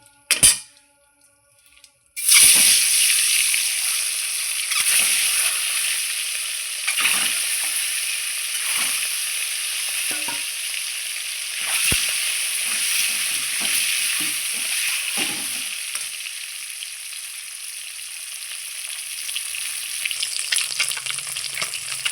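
A sudden loud sizzle erupts as boiled duck eggs hit hot oil in a wok, then continues as steady crackling frying with occasional scrapes of a utensil for a long stretch.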